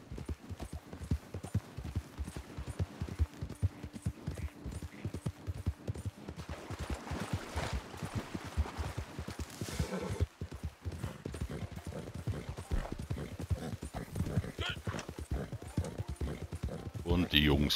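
A horse gallops in the video game Red Dead Redemption 2, with quick, continuous hoofbeats that run throughout, mixed with other game sounds and someone talking over them.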